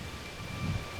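Blustery wind buffets the mic with low, rumbling flutter, a steady rush of noise that swells a little toward the end.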